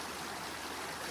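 Creek water flows and babbles steadily at Bull Creek near a gold-prospecting sluice, a faint, even rushing wash with no voices.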